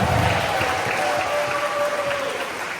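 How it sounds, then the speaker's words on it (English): A large audience at an educators' event applauding steadily, a dense wash of clapping that carries on for the full stretch, fading slightly toward the end. "Now give yourself a round of applause."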